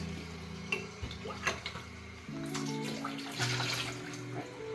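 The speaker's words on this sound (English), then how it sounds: "You can drain out the sink." Water running and draining in a kitchen sink, a burst of clattering splashes and knocks, then a steadier rushing flow with gurgles, close and moderately loud.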